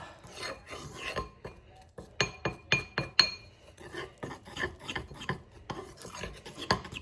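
Powdered sugar glaze is stirred briskly in a bowl for a holiday cherry pie bar topping, giving a continuous rasping, scraping rhythm of utensil against bowl with sharper clustered strokes in the middle.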